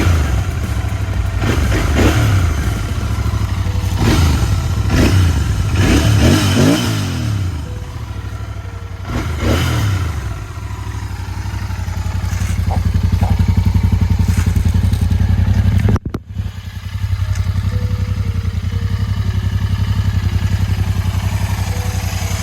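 A Royal Enfield GT650 motorcycle engine idles with a steady low rumble, punctuated early by several sharp revs, then settles into an even, close-up idle.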